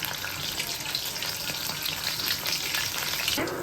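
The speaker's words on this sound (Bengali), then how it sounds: "আমরা পাঁচ থেকে ছয় মিনিট মতো এটা সুন্দর করে ভেজে নিয়েছি" Foli fish kofta balls fry in hot oil, making a dense, steady bubbling sizzle that stays close and even for the whole short stretch, with no voices.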